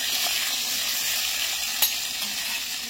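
Ground spice paste sizzles steadily in a pan alongside fried capsicum and potato for an ISKCON-style dish, a continuous close hiss with one brief sharp crackle near the end and no talking.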